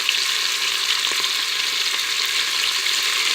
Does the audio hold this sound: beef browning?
yes